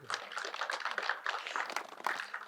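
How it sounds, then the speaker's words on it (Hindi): Loud, dense clapping from a gathering at a Buddhist vihara in Nagpur, a steady burst of many hands lasting a couple of seconds with no talk. "जोरदार तालियां"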